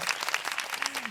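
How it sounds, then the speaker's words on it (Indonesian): A small studio audience at the Asep Doseng Podcast breaks into brief, lively clapping, a short burst of overlapping hand claps at close range. "Ya, tepuk tangan dulu dong, guys"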